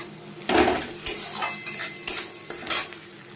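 Onions fry in a pan with a light sizzle while a spoon scrapes and clinks against the metal in quick, uneven strokes, close and clear, with no talking.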